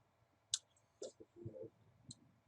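A mouse button clicks a few times on a quiet desk, with one sharp click and several softer taps spread over a couple of seconds, close and faint, with no talking.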